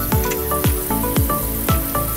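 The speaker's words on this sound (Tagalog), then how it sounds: "tapos yan, prito ko na siya." Salted, peppered food frying in a pan at home, a steady close sizzle with periodic louder bursts of spattering roughly every half second.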